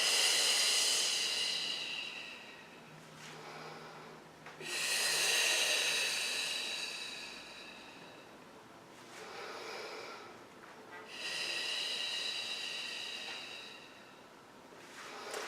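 Slow, deep breaths during a standing Pilates core exercise: three long hissing exhalations and inhalations, close and fairly soft, separated by quieter pauses.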